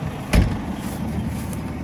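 A tractor engine idles at lowered revs with its power take-off stopped, hitched to an old-style small square straw baler: a steady low rumble with one short thump near the start.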